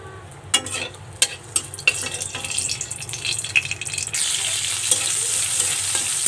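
Chopped garlic fries in hot oil for a water lily stem (shapla) dish, with a steady close sizzle, spoon scrapes, and a louder, denser hiss after about four seconds. No one speaks.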